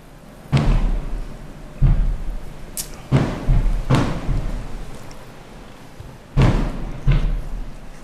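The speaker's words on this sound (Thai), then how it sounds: "Fireworks. มีใครจุดพลุไม่รู้ค่ะ" Fireworks burst during Day of the Dead festivities in Puerto Vallarta, Mexico, heard as about six separate booming thuds spaced a second or so apart, each with a short rumbling tail, moderately distant.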